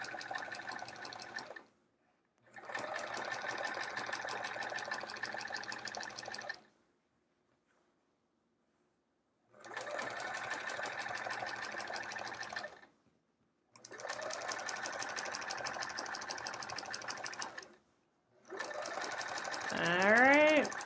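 A sewing machine stitches a quilt with metallic thread in bursts of steady whirring of about four seconds each, broken by short pauses.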